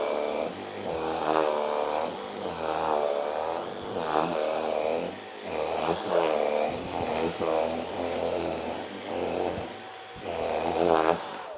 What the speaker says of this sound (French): le bruit que vous entendez, c'est le bruit des lamelles caoutchouc qui vient taper contre le tissu